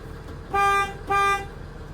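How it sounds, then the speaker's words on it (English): Two loud, steady horn blasts, each about a third of a second, separated by a brief gap, sounding close by. "You gotta have the air horn."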